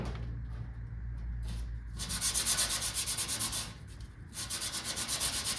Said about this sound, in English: I didn't even sand it all the way right there.